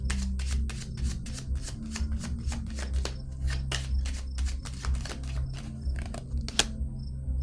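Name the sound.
tarot cards being handled and laid down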